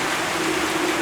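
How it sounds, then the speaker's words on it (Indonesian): Heavy rain pouring down during a windy storm, a dense, continuous hiss of falling water with no pauses or voices. "hujan deras"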